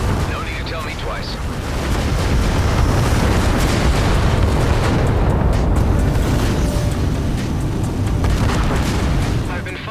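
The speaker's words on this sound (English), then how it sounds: "Explosion imminent." A sustained explosion rumble in the space combat game Everspace 2, a loud, continuous booming roar with a dense low end that swells after about two seconds and holds steady to the end, with no talk.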